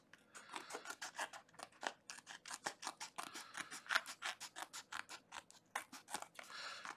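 Scissors snip steadily through overflowing excess material, a fast run of crisp, close cutting strokes repeated throughout with no talking.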